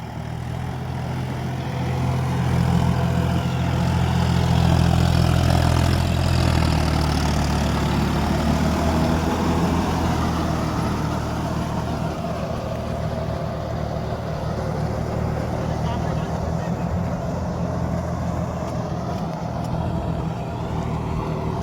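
A John Deere 5050D 4WD tractor runs steadily with the tiller lowered fully while working a seedbed, a loud, continuous low diesel drone that swells slightly early on and then holds even and close throughout.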